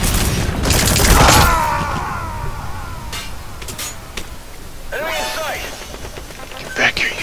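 Gunfire in the online game Metal Gear Online: bursts of shots and impacts, loudest early on and then scattered, with game sound effects and voices mixed in.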